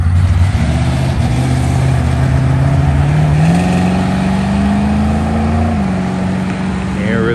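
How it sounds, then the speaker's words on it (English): A car leaves a cruise-in car meet outside a pizza house, its engine note rising steadily as it pulls away, loud and close, with talk nearby. "Got the first car leaving"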